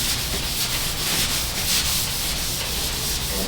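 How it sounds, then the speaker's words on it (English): Wet sanding of primer on a car deck lid makes a steady, close, scratchy rubbing that carries on without pause and with no talk. "That's just going to make any sludge that's created from wet sanding this primer easy to clean up."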